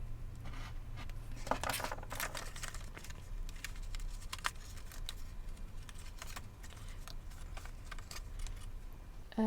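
Paper card being cut with scissors or an X-Acto knife along a die-cut edge, heard as faint, close snips and scratchy ticks in an irregular rhythm over a low background hum, with no speech.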